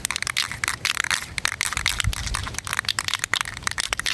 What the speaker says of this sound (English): when you hear that loud knocking sound